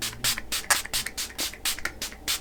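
Makeup setting spray is misted from a pump bottle in a rapid series of about nine short, close hissing bursts with brief gaps between them.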